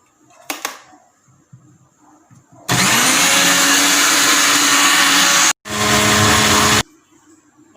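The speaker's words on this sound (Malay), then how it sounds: "Kisar sampai hancur ya." An electric blender grinding shallots and spice paste ingredients with a little water for chicken biryani, a loud close roaring whir running about three seconds, a brief cut-off, then another burst before stopping, with faint handling sounds beforehand.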